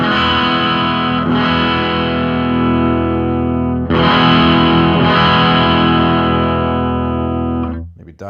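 Heavily distorted electric guitar chords through a Hotone Loudster power amp on the bridge pickup ring out loud and sustained, struck twice and left to drone before being cut off abruptly at the end.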